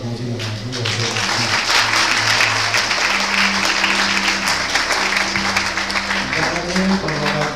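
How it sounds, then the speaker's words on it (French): A church congregation applauds together, the dense clapping running steadily throughout while voices and a held sung or spoken tone carry on underneath. "Pour faire ça bien, applaudir,"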